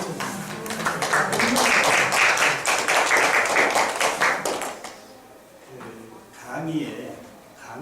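An audience in a college lecture hall claps loudly and rapidly for about five seconds, then the clapping stops and a speaker's voice takes over.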